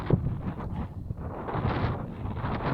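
Steady wind buffets a microphone on an open hillside at Knockmealdown, a continuous close roar and rumble with no talking.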